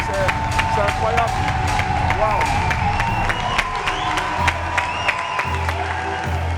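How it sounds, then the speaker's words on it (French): Audience at a live show applauding a brave woman, dense sustained clapping with scattered sharp claps standing out, steady and fairly loud throughout with a low hum underneath. "Est-ce qu'on peut applaudir cette brave femme-là?"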